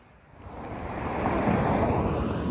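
Steady wind roar buffets the microphone while cycling on a windy day, a broad rushing noise that swells louder and holds strong through the second half, with no talk.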